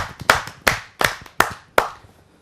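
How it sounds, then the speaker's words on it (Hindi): Applause rises from the audience at a Hindi kavi sammelan poetry gathering, a few sharp, separate claps ringing out close by, with a small echoing decay after each. "आइए उनका स्वागत करते हैं जोरदार तालियों से।"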